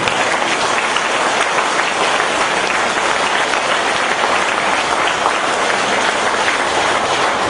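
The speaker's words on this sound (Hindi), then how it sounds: "तो जोरदार से तालियां बजाएं आप ध्यान के लिए" An audience at a spiritual discourse on meditation breaks into loud, sustained applause, a dense and unbroken roar of clapping that holds level from start to finish.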